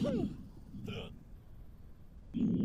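A patient in the video game Quarantine Zone: The Last Check hiccups in three short, abrupt bursts spaced about a second apart, close and fairly loud.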